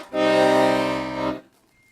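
Bass side of a lightweight green and red Weltmeister Rubin piano accordion sounds a single deep, full held chord from the bass buttons, loud and close for over a second before releasing.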